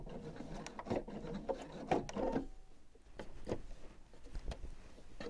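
A sewing machine stitches around a duffle coat patch on a two-sided plush vest with the needle kept down, running in quiet, uneven bursts with soft rubbing and fabric shuffling between them.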